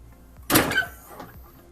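A heat press closes on a shirt with a single sharp thunk and a brief hiss of pressure, close and fairly loud in a quiet room.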